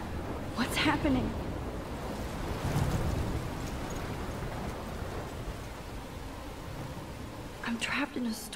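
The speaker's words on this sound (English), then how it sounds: "I'm trapped in a storm?" A video game storm roars with steady wind and crashing waves, a dense continuous rush that holds throughout, with brief vocal sounds near the start and end.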